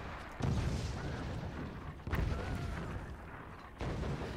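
Mortar fire in the video game Forts: three heavy booming shots land about every second and a half, each a loud thump followed by a rumbling tail, with no speech.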